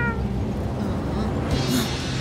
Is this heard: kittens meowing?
yes